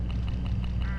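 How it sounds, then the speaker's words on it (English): Birds in the video game Hitchhiker squawk and honk in a rapid goose-like series of loud, close calls over a steady low hum. "These birds are unpredictable."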